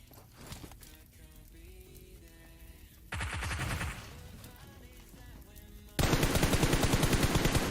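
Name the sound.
gunfire in a video game esports scrim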